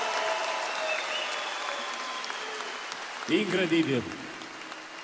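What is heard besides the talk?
audience applause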